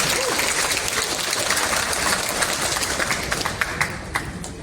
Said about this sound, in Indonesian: kita berikan tepuk tangan untuk teman-teman jurnalis yang hadir di kesempatan ini.